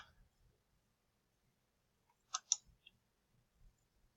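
A few soft computer mouse clicks sound in a quiet room, a quick pair close together followed by one fainter click, with low murmurs around them.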